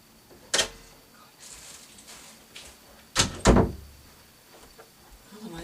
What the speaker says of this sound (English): I'm just going to let him out the door so he goes in the kitchen.